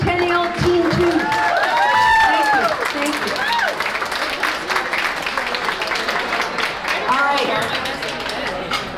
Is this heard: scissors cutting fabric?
no